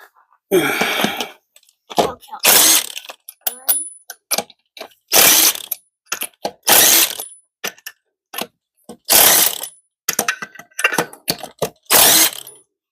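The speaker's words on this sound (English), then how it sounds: "I'm going to use the socket to take them off" A socket wrench ratchet removes bolts during vehicle maintenance: bursts of rapid metallic clicking, about a dozen separate runs spaced by short pauses, close and loud, with occasional faint sounds between bursts.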